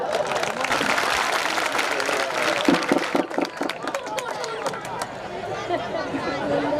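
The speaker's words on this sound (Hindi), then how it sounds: "एक बार सब ताली बजाए यार।" Audience clapping at a comic poetry performance, dense loud applause at first that thins into scattered individual claps, with a voice talking over the crowd.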